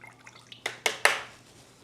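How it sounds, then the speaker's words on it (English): A paint brush is washed in water, three quick splashing swishes in a row, close and fairly quiet, ending in a short wet trail. "Then we're going to wash this brush."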